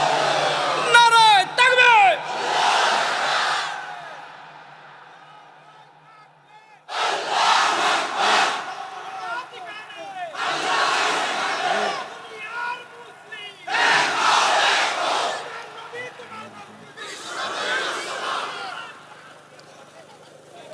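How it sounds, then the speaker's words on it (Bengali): At an outdoor Islamic religious gathering at the Gurudaspur graveyard ground in Natore, a large crowd shouts takbir in loud repeated bursts, one chant at a time, with a voice leading in between and brief quiet gaps. "হাত তুলিয়া আবার একবার তাকবীর দাও"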